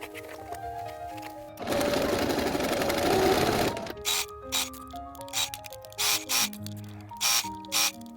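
A sewing machine runs over long fabric strips in a sustained burst, then stitches in short stop-start runs over quiet background music.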